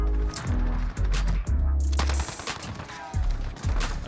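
Uzi submachine gun fire in Modern Warfare, with several short, punchy bursts and a deep thump at each volley, loud and close, separated by quick pauses.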